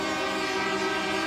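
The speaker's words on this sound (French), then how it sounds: "Après des heures sur la route et des centaines de coups de klaxon" Horns of a farmers' tractor convoy blare in a steady, loud, sustained tone, with several horns overlapping in a continuous drone during a protest drive to Brussels.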